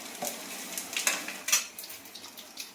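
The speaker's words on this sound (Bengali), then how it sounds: "এখানে থোড়টা ভাজা দিয়ে দিয়েছি, ভাজা হচ্ছে হোক, আর এখানে মাছ ভাজা হচ্ছে" Fish frying in oil in a pan beside frying banana stem, heard as a soft sizzle under several sharp clinks and scrapes of a utensil against the pan, fairly quiet and close.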